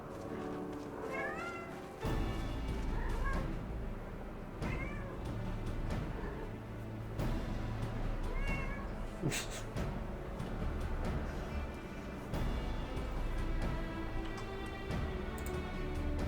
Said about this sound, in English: Can you hear her meowing?